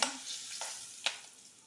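Spices, curry leaves, salt and turmeric sizzle and crackle in hot oil, with a couple of soft scraping stirs of a spoon against the pan.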